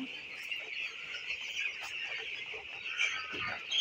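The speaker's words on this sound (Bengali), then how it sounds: "সবগুলো পানির জন্য চটপট করতেছে, পাগলামি করতেছে" Broiler chickens crowd together in a poultry shed before vaccination, a continuous dense chorus of high chirping and peeping from many birds close by, with faint scuffling underneath.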